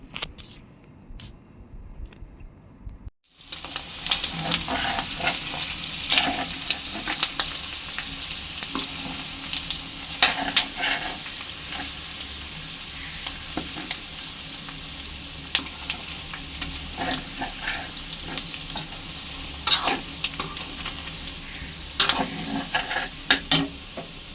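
Goat blood fry sizzles and crackles in a pan while a spoon stirs it, giving a steady, close frying hiss broken by scraping stir strokes, after a short quiet start.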